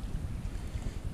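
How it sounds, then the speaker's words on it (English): Wind gusting across the shore of East Lake or Paulina Lake, a steady, loud low rumble of buffeting air against the microphone with no pauses and no voices. "It's a little windy"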